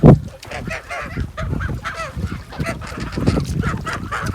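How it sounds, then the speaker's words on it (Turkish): Fattening geese, 65 days old, honk and cackle together as a flock, with overlapping calls repeating throughout at close range and a fairly steady loudness. "Kazların keyfi yerinde."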